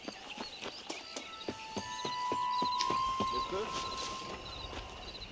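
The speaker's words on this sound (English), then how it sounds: "Mount your horse." Steady clip-clop of a horse's hooves on a ranch ride in Red Dead Redemption, evenly paced and moderately close, with a faint high tone in the background.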